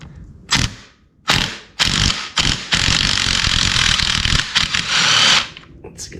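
Ratchet wrench on a 9/16 nut holding a small engine flywheel, loud clicking bursts in short separate pulls followed by a longer continuous ratcheting spin, all close up.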